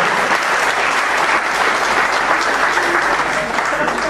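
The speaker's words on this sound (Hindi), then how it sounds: "आप तालियां बजा सकते हैं" Steady, dense applause from a large audience at a comedy show, continuous and loud throughout.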